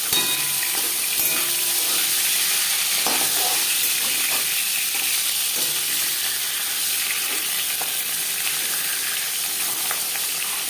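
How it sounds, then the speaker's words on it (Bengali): Marinated fish frying in a few spoonfuls of hot refined oil for a light summer fish curry, giving a loud, steady, dense sizzle that runs unbroken throughout with a few faint clinks and no talk. "চার পাঁচ চামচ রিফাইন্ড অয়েল গরম করে নেওয়ার পর দিয়ে দিলাম ম্যারিনেট করে রাখা মাছ।"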